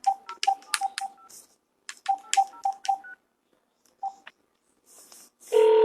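A telephone dials out to place a call: two quick runs of beeping keypad tones, a lone later tone, then a steady ringing burst at the end, all clear and isolated.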